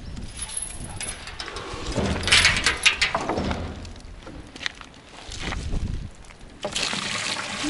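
Water poured outdoors, an uneven trickling and splashing that swells and fades in bursts, with rustling and shuffling nearby.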